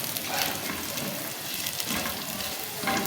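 Green chillies sizzle and puff in hot oil in a pan for masala vegetable khichdi, a dense continuous crackling fry heard up close with occasional stirring.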